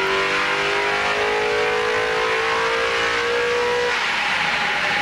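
A tuned competition engine at a tech session roars loud and close, holding a sustained, raspy rev whose pitch shifts toward the end, with no voices over it.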